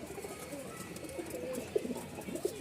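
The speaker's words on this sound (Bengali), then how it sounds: "এখানে এক জোড়া কবুতর দেখতে পাচ্ছেন চকলেট বিস্কিট কালার" A pair of chocolate-biscuit coloured Giribaz pigeons coo softly at a pigeon market, with low, faint coos and a few slightly louder calls near the end over quiet background noise.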